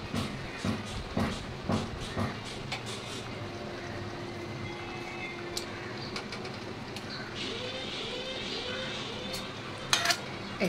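Fish pieces go one at a time into a hot frying pan, with a steady sizzle broken by repeated clinks and scrapes of utensils against the pan.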